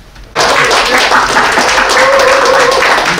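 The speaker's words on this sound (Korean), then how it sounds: "박수 다시 한번 부탁드립니다." Audience applause at a company alumni association's annual general meeting and year-end party, bursting in abruptly after a quiet moment and staying loud and sustained to the end, with a faint voice briefly beneath it.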